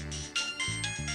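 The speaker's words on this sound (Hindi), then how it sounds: "कॉलेज की सबसे हैप्स लड़की का फोन आ रहा है" A mobile phone ringtone sounds for an incoming call in a Hindi TV drama, a repeating electronic melody in short pulsed phrases, fairly close and heard alone.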